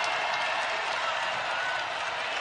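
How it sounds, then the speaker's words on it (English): Basketball arena crowd on its feet at a women's college game, Oklahoma at Iowa State, a dense continuous roar of cheering and clapping, loud and steady with no break. "Crowd is on their feet."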